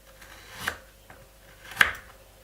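Two crisp knife strokes chop through carrots on a cutting board, spaced about a second apart, with a faint tap between them in a quiet kitchen.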